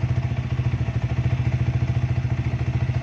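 A Yamaha New Vixion motorcycle engine idles right after starting, a steady rapid thumping pulse heard up close with no voices over it.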